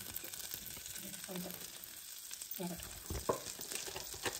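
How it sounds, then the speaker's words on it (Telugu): Flour (maida) frying in melted butter in a pan, a steady soft sizzle with occasional stirring scrapes and clinks, fairly quiet and close. "సో ఈ బటర్లో ఈ మైదా అంతా కొంచెం ఫ్రై అవుతుంది."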